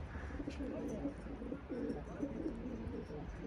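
Pigeons arriving on a rooftop in snowy weather coo softly and repeatedly, a low, throaty warble that rolls on under a steady outdoor background hiss.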